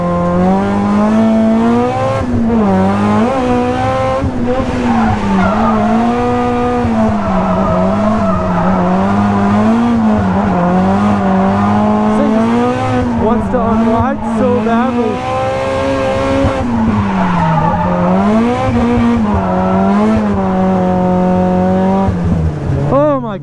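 A Toyota Cresta driven hard around Nikko Circuit, its engine loud and close with rising and falling revs through gear changes and corners, and tire squeal in places.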